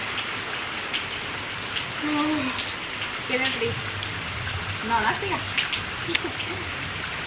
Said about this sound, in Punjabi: ਹੁਣ ਮੀਂਹ ਵੀ ਥੋੜਾ ਜਿਹਾ ਘੱਟ ਹੋਈ ਜਾਂਦਾ ਹੈਗਾ